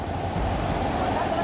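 Floodwater from a river swollen by torrential rain in Ratnagiri, Maharashtra, rushing past with a steady, loud roar and low rumble, broadband and unbroken throughout, without any talk.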